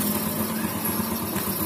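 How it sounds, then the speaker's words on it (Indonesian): A Yamaha Vega R motorcycle engine idling after a new KW piston is fitted, with a close, steady mechanical rattle and hum running evenly throughout with no talk. "Kita dengarkan halusnya suara motor pakai piston baru, padahal pakai KW ini"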